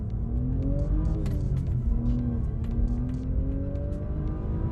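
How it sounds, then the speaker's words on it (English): A BMW 130i hot hatch engine revs strongly and continuously, its rising and falling harmonics droning loud and close throughout, with no talking over it. "you just have to listen to this engine"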